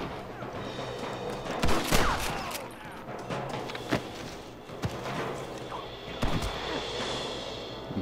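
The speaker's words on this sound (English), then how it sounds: "Good shooting, Marston." Gunfire in the Western video game Red Dead Redemption, heard as repeated sharp shots and booms scattered across a busy, loud mix of game noise, with voices present.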